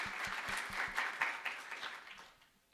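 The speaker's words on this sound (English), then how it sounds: "A round of applause to everybody I have just mentioned" Crowd applause at an alumni event, a brief, dense burst of clapping that tapers off within a few seconds, accompanied by a soft repeated low thump early on.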